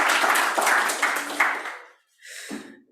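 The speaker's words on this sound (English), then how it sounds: "Big round of applause for" Applause for Katie at the FibreHub launch event, clapping from a modest audience that fades out after about two seconds, followed by a short voice.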